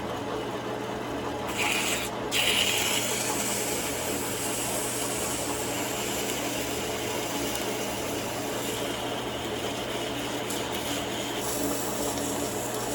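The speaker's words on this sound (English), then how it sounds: "We get ourselves a little 80 grit. Okay. Turn on our speed, light, speed, clean." A hand drill spinning an 80 grit sanding disc against a cylinder head valve to clean it down to bare metal, giving a steady close grinding rasp that holds for the whole stretch.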